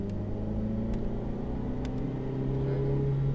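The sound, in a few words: Ferrari F8 Tributo accelerating on race circuit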